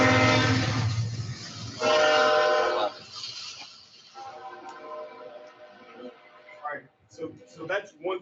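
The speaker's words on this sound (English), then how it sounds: "I keep forgetting the train runs right through there" A train running right past the building sounds a loud, sustained horn blast with rumbling rail noise that fades, followed by people talking.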